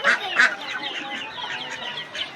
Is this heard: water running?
no